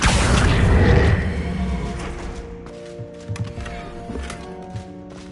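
Depulso and Accio spell effects in the video game Hogwarts Legacy land as a loud, booming magical thump that fades into a ringing tail, followed by a few faint knocks and clatters.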